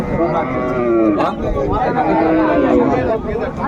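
A cow moos in a long, loud, nearby call at a village cattle market, with crowd chatter and voices around it.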